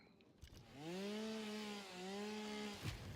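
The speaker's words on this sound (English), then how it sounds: "My chainsaw goes brr brr brr brr brr brr." A chainsaw in the video game Satisfactory revs in a steady, droning buzz for about two seconds with a short dip midway, faint and alone.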